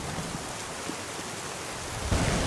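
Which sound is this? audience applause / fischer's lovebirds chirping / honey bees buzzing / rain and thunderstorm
rain and thunderstorm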